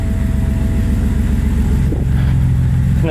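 A BMW X5 engine, freshly swapped, runs in a steady, low rumbling idle close by, without pauses.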